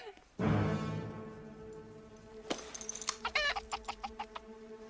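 A chicken sound effect plays: a loud squawk, then a rapid run of sharp clucks getting quicker, close and alone with no voices.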